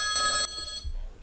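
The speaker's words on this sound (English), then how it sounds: "Sorry about the phone call." A telephone rings once with a brief, bright bell-like trill that cuts off abruptly, followed by quiet room noise and a few faint low thumps.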